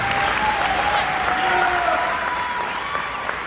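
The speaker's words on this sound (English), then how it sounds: "Let's give her a round of applause" Steady audience applause at a school gathering honoring a longtime basketball coach and his wife, a continuous even clapping from a large crowd with a faint voice or tone threading through.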